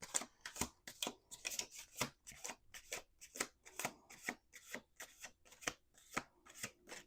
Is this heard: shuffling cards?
yes